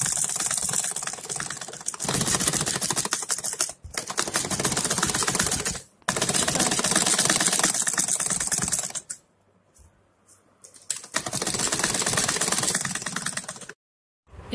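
A sewing machine stitches golden lace onto a doll's dress in loud, rapid runs, broken by brief pauses and a longer quiet gap.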